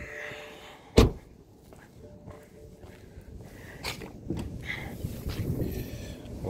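The hood of a BMW F30 320i is opened with a single sharp clunk close by. Softer rustling and outdoor wind follow, with no talk.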